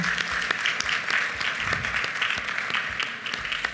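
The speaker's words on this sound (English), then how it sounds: "another round of applause for those great supporters as well" Sustained round of applause from the audience at a charity celebration dinner, steady dense clapping filling the room for a few seconds with no speech.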